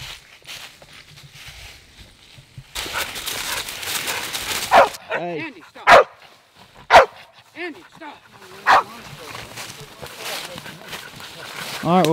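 Tracking dogs bark in a swamp with several loud, separate barks and yips spread across the stretch, some close and some farther off. Footsteps and rustling run beneath them, and someone talks now and then.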